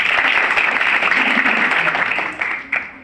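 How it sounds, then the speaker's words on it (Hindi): Audience applause at a seminar on communal harmony in Haryana, a dense, loud burst of clapping that holds steady and then tapers off with a few last claps. "जोरदार तालियों से।"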